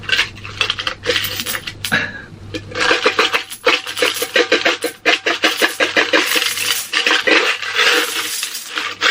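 Many coins pour and tumble out of an opened savings tin, a dense, loud metallic jingle and clatter that keeps rattling in bursts throughout, with a steady low hum underneath and no talking.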